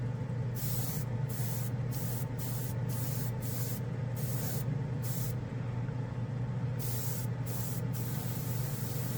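An aerosol can of Tamiya spray paint fires a run of short hissing bursts, some longer and some clipped, close and clear over a steady low hum, with a pause before a final few sprays.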